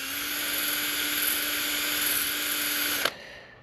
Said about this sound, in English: so we'll wire wheel it a little